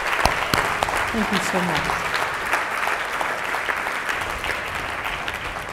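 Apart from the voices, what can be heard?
audience applause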